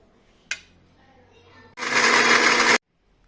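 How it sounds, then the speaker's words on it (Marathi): A kitchen mixer grinds lemon pieces with a little juice for a lemon pickle, a loud steady whirring buzz lasting about a second after a short click, then stopping abruptly. "तर बघा अशा प्रकारे आपल्याला मिक्सरवरती काढून घ्यायचं आहे पूर्ण लिंबाच्या फोडी."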